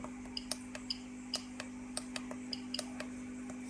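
A Geiger counter dosimeter measuring gamma radiation with its alarm switched off gives sharp, irregular clicks, roughly a few per second. They sound faint over a steady background hum.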